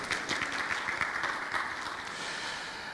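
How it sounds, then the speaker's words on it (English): A church congregation claps for the organist during a Lutheran worship service, a full, steady wash of applause filling the room at an even level from start to finish. "Yes, you can applaud for that."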